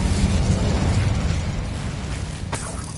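An Incendio fire spell is cast in Hogwarts Legacy, producing a loud, dense whooshing roar of flame that holds steady for a few seconds, with a sharp crackling burst near the end.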